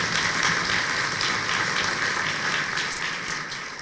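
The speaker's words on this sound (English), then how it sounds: "So a round of applause." A crowd at a citizens' change competition event gives a dense, continuous round of applause, loud and even throughout before tapering off gently at the close.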